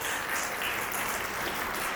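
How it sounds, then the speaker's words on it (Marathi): Sustained, dense audience applause at a devotional Shri Swami Samarth gathering, filling the short moment as a steady, even wash of clapping with no voices over it. "यासाठी जरा पहिलं जोरदार टाळ्यांचा गडगडाट द्यायचं."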